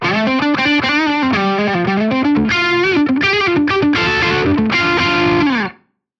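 A clean electric guitar on the neck pickup, overdrive pedal off, plays a melodic lead line of sustained single notes and bends, ringing clearly before cutting off at the end.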